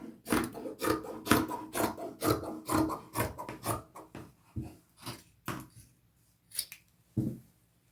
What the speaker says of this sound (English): from the bottom of this neckline to the bottom of the shirt, I'm going to eyeball about the center and just cut across